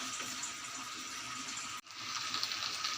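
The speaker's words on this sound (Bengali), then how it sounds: "কষানো হয়ে গেছে, আমি জল দিয়ে দিচ্ছি।" Water pours into a pan of fish heads cooking for a Bengali fish-head curry, a steady close gushing stream that breaks off briefly near the end before flowing again, no talk.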